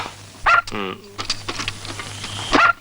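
High-pitched whimpering yelps from a dog that has just given birth come in brief bursts, with a couple of barks and other scattered noises between them.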